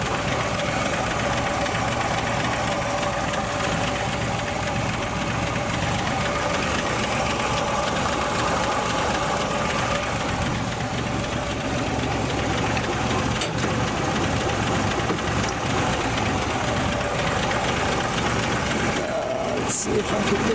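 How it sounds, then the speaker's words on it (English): A 1962 Ford Falcon engine with an original Holley carburetor idles steadily and close, a continuous rumble with mechanical ticking, while a voice talks briefly over it. "Just might have to adjust the idle now."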